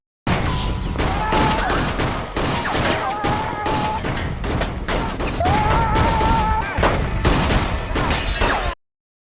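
A fusillade of gunshots during a shootout and chase scene from the 2014 comedy Let's Be Cops, with bursts of sharp shots and crashes, dense and loud, over a continuous action-score backdrop.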